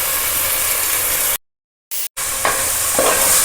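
Ground masala paste fries in a pan with onion and ginger-garlic paste, giving a steady, close sizzle with stirring scrapes, broken by a short silent cut midway.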